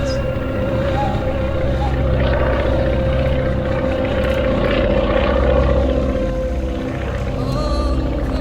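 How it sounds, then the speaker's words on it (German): A steady, droning engine hum of an aircraft passing overhead, continuous and fairly loud for the whole stretch with little change in level. "Flugzeug!"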